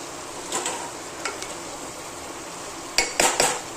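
Washed Wada Kolam rice goes into a spiced tempering in a pot. Metal clinks and scrapes of utensils against the pot come in short bursts over a soft background hiss, and no one speaks.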